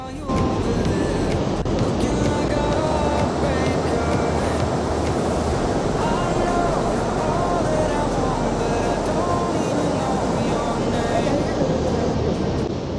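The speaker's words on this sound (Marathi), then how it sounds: "कारण पाण्याच्या जोरमुळे जास्त आवाज आहे." Loud, constant roar of rushing, overflowing monsoon water in a jungle filling the scene without pause, close by, with a voice faintly buried beneath it.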